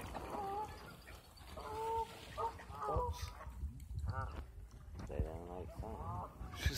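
Chickens and other fowl at a bird sanctuary, startled by spilt corn, squawk and cluck in agitated bursts, close by, with faint voices mixed in.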